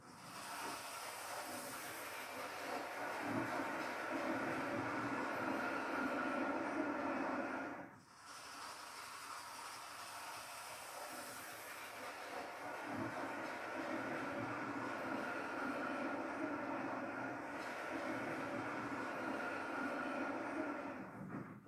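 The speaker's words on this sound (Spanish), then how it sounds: "el Carrilet llega a la estación de Las Planas" Carrilet de Olot narrow-gauge train running along the line toward Las Planas station, a steady broadband rumble and hiss of rolling wagons close by, with a brief dip around the middle before the continuous roar resumes.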